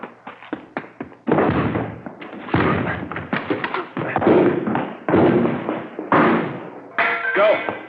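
Police forcing doors open in a radio drama sound effect: a volley of sharp thumps and bangs, then several heavy, sustained crashing bursts in quick succession, loud and close.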